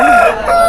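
A brief, loud rooster crow from a large country chicken at a poultry market in Nallapadu, Guntur district, close by, cut short within a fraction of a second.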